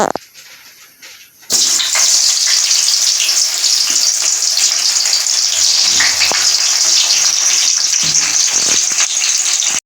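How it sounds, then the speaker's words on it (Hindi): Eggplant pieces fry in hot oil in a pan for a baingan salan. After a brief quiet start, a loud, dense sizzle kicks in abruptly and holds steady and close to the end. "सबसे पहले हम बैंगन को फ्राई करेंगे।"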